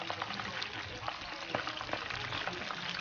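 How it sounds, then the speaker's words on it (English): Hot oil frying chicken crackles and sizzles with frequent small pops and spatters, a busy frying sound heard up close. "Just be careful with the hot oil. There's the splatter."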